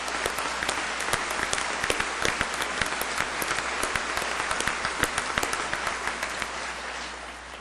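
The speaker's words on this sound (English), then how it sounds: "let's give them all a round of applause and say thank you for their support" Commencement audience at Dakota State University, spring 2008, claps loudly and continuously, dense applause with sharp individual claps standing out from the crowd for the whole stretch.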